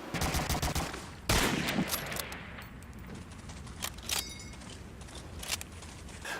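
Gunfire in the World War II shooter Medal of Honor: Allied Assault Spearhead: a loud close shot followed by a scatter of sharper, more distant shots and cracks over a rumbling battlefield background.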